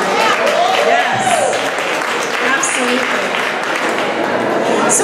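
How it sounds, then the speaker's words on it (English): Loud, sustained audience applause fills a crowded art gallery evening event, steady clapping throughout with a voice speaking over it. "So let's have a nice round of applause for New Zone Gallery tonight."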